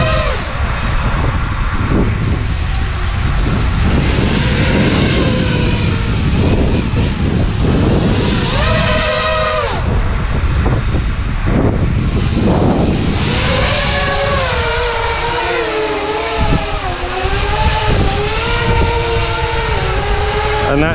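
An 8-inch Siccario cinelifter drone carrying a 2 kg payload punches out in the wind, its motors a loud, dense whine that rises and falls in pitch through bursts of throttle, with wind buffeting underneath.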